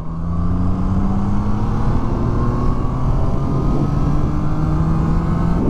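A 2021 Triumph Trident 660 motorcycle engine revs and pulls steadily, its droning pitch climbing gradually as it accelerates, loud and close throughout with no talking.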